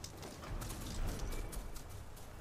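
A mount's hooves clip-clop in the Horizon Forbidden West video game, a faint, steady, rapid patter over continuous outdoor ambience.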